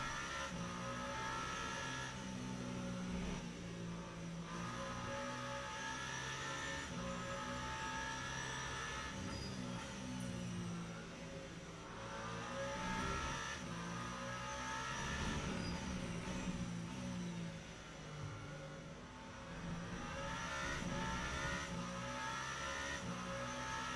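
Le Mans Ultimate race cars at Circuit of the Americas: a continuous engine drone that rises and falls with gear changes and revving as several cars run close together in traffic. No one talks.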